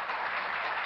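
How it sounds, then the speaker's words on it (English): Scattered applause from a small audience, a thin steady patter of hands lasting under a second at moderate distance. "only 8 people are applauding"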